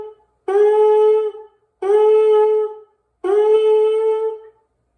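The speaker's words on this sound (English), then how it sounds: "let's just quickly practice articulating the buzzing sounds." Lips buzzing into a trombone mouthpiece give three separate buzzed notes, each about a second long with a clean attack, close and loud, with brief silences between them and no talking.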